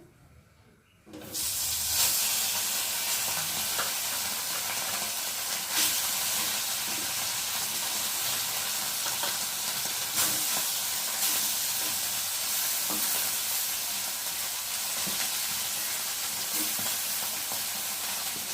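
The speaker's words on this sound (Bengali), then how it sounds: "তেলটা গরম হয়ে গেছে আর আমি এখন একে একে মাছগুলোকে দিয়ে ভেজে নেবে" Fish hits hot oil and erupts into a loud, sustained, hissing sizzle that holds steady for many seconds with faint spatters and crackles, close and without talk.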